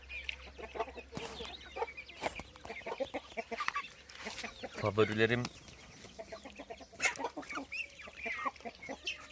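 Chickens cluck and a rooster calls amid village farmyard noise with geese and ducks, with a person talking over the birds throughout.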